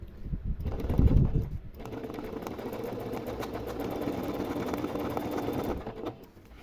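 Domestic sewing machine running a straight stitch along an outline, a steady close mechanical whir lasting several seconds after a brief initial burst, then stopping, with no talking over it.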